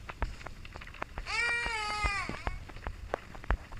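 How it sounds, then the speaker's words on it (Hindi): Infant crying in the horror game The Baby in Yellow, a wavering wail lasting about a second amid thumps and clicks of game play in a quiet room. "बच्चा रो रहा है"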